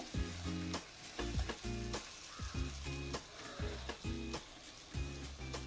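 Chicken masala with garam masala sizzles steadily in a pan for Kerala chicken puttu, with a spoon scraping and stirring in repeated rhythmic strokes close by, loud and continuous with no talk.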